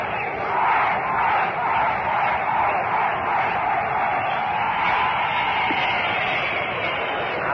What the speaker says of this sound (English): he realized that and went out there in the deep center field to lead the bleachers into a cheer